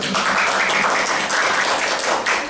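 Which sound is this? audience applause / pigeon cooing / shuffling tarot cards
audience applause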